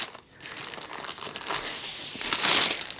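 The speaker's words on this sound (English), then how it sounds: "let me just find the flap to open it. an attempt as ever not to rip it all open." A branded dust cover bag being opened by its flap, giving soft crinkling and rustling of the bag material in short bursts that rise at the end, close and quiet with no talk.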